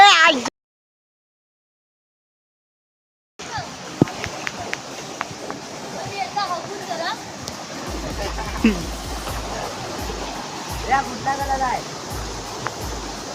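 Water splashes and flows in a constant rushing wash while people swim, with brief louder splashes and voices speaking over it after a short silent gap at the start.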